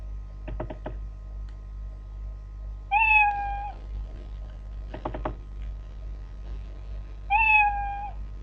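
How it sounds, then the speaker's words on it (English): Two short synthetic cat meows from a Scratch programming project, each a clear rising-falling tone, separated by soft clicking like keyboard taps in a quiet room. "it also will play the sound meow"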